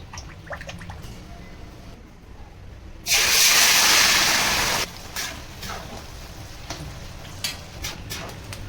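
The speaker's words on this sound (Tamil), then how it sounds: "கொஞ்சமா இதே நல்லெண்ணெயிலே இந்த இறை வறுக்க போகிறேன்" Prawns hit hot sesame oil in a sudden loud hissing sizzle that lasts about two seconds, then settles into quieter crackling and scattered pops from the pan.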